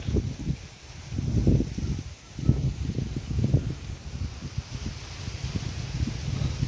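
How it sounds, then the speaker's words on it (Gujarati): Strong gusty wind over a wheat field in a Gujarat village buffets the microphone in low rumbling bursts, rising and falling over several seconds, with a faint rustle underneath. "પવન જોરદાર છે"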